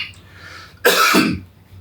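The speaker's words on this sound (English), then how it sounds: "Cough." A single sharp, close cough bursts out after a quiet moment, loud and short with a throaty tail, over faint low background hum.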